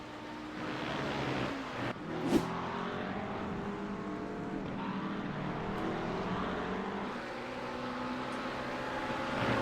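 Steady engine drone of a GT3 race car running down the front straight at the Red Bull Ring in a racing video game, a continuous mid-level roar with one brief sharp spike near the start.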